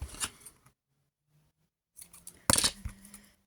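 Scissors snipping through paper while scrapbooking with used envelopes, bursts of crisp close cutting and rustling separated by a quiet pause, ending with a sharp sequence of snips.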